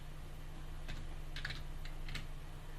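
Several quiet, close computer keyboard keystrokes tap out in small irregular clusters over a steady low electrical hum, with no talking.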